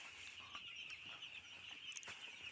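A flock of seven-day-old broiler chicks on a poultry farm in winter chirps and clucks continuously, a constant high-pitched peeping chorus with a few louder individual calls, no voices.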